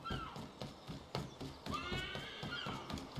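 Horse neighing in the Assassin's Creed III video game, a loud whinny with a rising, wavering cry over repeated clip-clop hoofbeats, alone with no talk.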